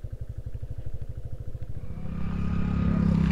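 A motorbike at an adventure park on Escapade Island in Patna, first a rapid, pulsing engine putter, then a rising, louder rev that swells into a sustained roar as the bike pulls away nearby.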